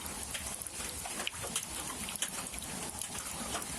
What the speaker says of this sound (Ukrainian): Дощ пішов. Такий собі. Так, потихеньку капає.